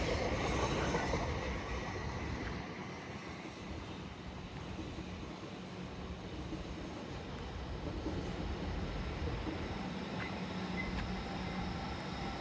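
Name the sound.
Class 377 train passing South Croydon station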